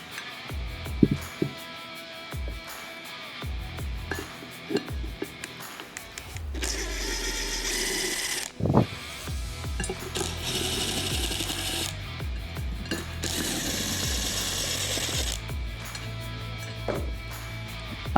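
A ratchet backs press bolts out of the pump half of an FTI torque converter, with metallic clicks and clanks followed by long stretches of continuous mechanical whirring and rasping, close and fairly loud.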